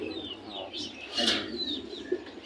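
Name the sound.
khaki pigeons cooing at a bird market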